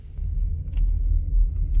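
A 2013 Toyota Camry Hybrid XLE with 138,000 miles rolls at parking lot speed, giving a steady low road and drivetrain rumble from inside the cabin, with a couple of faint clicks and no talking.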